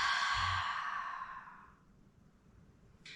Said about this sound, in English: Take a deep inhale and exhale out the mouth.